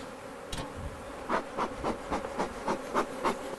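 Honeybees swarm around a hive, a continuous close buzz with repeated louder swells as individual bees fly past the microphone, no speech.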